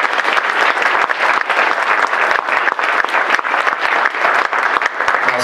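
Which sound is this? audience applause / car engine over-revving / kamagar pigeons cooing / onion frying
audience applause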